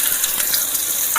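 Chopped onion frying in hot mustard oil with sugar and whole garam masala, a bright, crackly sizzle with small spitting pops, steady and close throughout.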